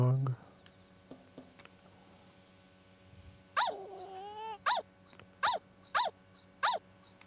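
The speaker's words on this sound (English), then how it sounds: "There's Huey's dog." A dog in the video game Yomawari: Midnight Shadows barking, a run of five or six sharp, evenly spaced yaps after a quiet stretch, with a whining cry before them and faint footsteps early on.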